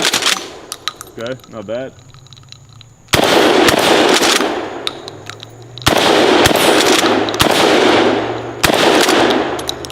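A double-barrel shotgun in a video game, fired at a cowboy target and a tombstone as sudden loud blasts that come several seconds apart, each followed by a long rumbling decay, with a few brief spoken words between them.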